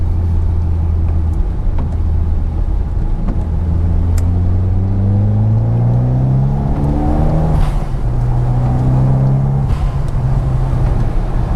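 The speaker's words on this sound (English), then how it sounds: "It's going to do a pull in 3rd gear." Mitsubishi Evo X GSR with a suspected turbo boost fault pulling hard in 3rd gear: a loud, close engine note climbs steadily in pitch, dips briefly, then rises again, with no talking.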